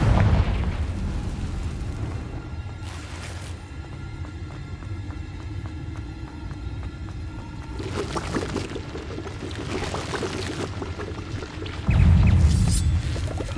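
Confringo fire spell blasts in the Hogwarts Legacy video game, a few booming bursts over a continuous game soundtrack, the loudest hitting near the end.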